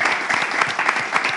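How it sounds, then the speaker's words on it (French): Dense, steady applause from a crowd honoring the first graduating class of a school in Lomé, loud and continuous throughout with no talk over it. "On va juste les applaudir."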